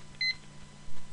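A single short electronic beep from a barcode scanner used for time tracking, a brief two-tone chirp near the start over low background hum, then quiet room noise.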